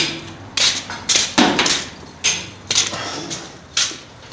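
A tool taps against a metal gate chain in a series of sharp, close, clinking strikes spaced unevenly, with brief quiet gaps between groups of taps.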